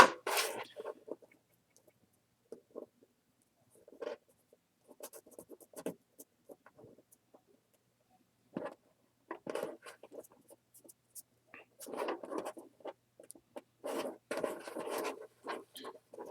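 Paper or cardstock is cut for a handmade scrapbook mini album, heard as a few close, scattered snips and rustles separated by quiet pauses.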